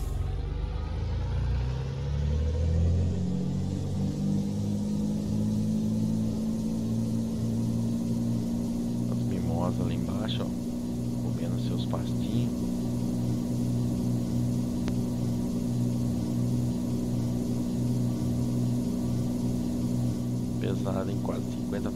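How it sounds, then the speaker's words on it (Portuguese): A heavily loaded timber truck carrying nearly 50 tonnes of cut wood grinds uphill after a downshift in a truck-driving game, its low steady engine drone rising slightly, with someone talking over it. "Vou até reduzir marcha aqui pra gente ganhar velocidade"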